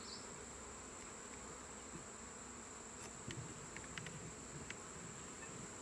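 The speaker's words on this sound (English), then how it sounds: "Let me get these bees off here" A dense, continuous buzzing of many honey bees around a hive during honey harvesting, steady and close, with a few individual bees flying past.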